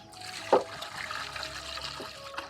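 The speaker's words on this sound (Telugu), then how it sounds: "పోయమ్మా నీళ్ళు పోయి శుభ్రంగా పోద్ది అనమాట" Water poured over goat tripe in a bowl for washing, a steady trickling and splashing with one sharp splash early on, close and moderately loud, no talking.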